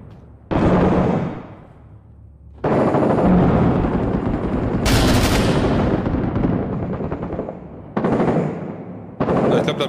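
Gunfire in the military shooter Six Days in Fallujah: loud, broad blasts of shooting come in separate bursts, some sustained like automatic fire with echoing decay, filling the whole clip.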